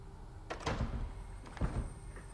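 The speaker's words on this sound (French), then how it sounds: "fermeture des portes" Doors closing in a horror film trailer for Candyman, two separate heavy thuds with rattling, about a second apart, moderately loud with no talk over them.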